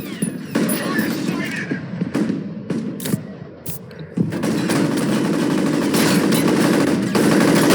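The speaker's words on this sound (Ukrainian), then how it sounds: "Це він стріляє там, до речі." Rapid automatic weapon fire from the first-person shooter F.E.A.R. Extraction Point crackles in loud sustained bursts with sharp louder shots mixed in, while a player talks intermittently over the combat.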